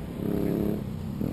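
A dog's low, rumbling growl close to the microphone, steady and throaty for about a second, with a second brief rumble at the end.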